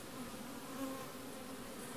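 Nurse bees in a nuc hive, on a frame of developing brood with ripening queen cells, give off a steady, close, low buzzing hum that holds even throughout.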